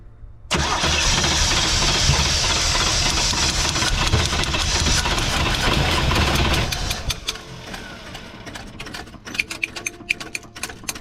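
Scrap car being restored for a movie set cranks over and catches, roaring loudly for several seconds before sputtering and dying into uneven coughing pops and clatter near the end.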